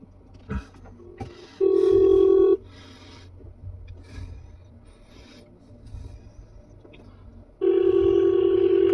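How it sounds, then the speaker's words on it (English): An outgoing phone call to a Louisiana State Police troop office in Bossier City rings back with two steady electronic tones about six seconds apart, heard over a quiet background with faint rustling. "She rings. You should answer the phone."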